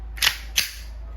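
Two sharp gas-powered shots from a tan Umarex Glock 19X gas blowback airsoft pistol loaded with BBs, fired at a steel target, each a crisp snapping crack about a third of a second apart, close and loud over a quiet room.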